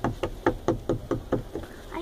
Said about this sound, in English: I hear knocking.